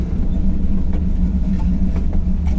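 A 1951 Chevy 3100 hot rod pickup idles steadily up close, a loud, continuous low engine rumble with a faint lumpy throb and no talk over it.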